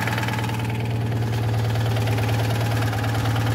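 A small Citroen 2CV engine runs steadily with a constant low hum and rapid mechanical rattle, close and loud, with no change in pace.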